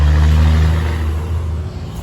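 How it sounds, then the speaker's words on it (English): A loud car drives by outdoors beside a garden compost bin, its engine rumbling heavily at first and then fading as it moves away. "there's a really loud car going by"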